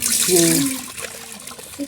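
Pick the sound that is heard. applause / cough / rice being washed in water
rice being washed in water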